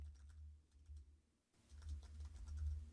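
Keys clatter on a computer keyboard while a name is typed into layout software, a quiet run of taps with a short pause in the middle, over a low steady hum.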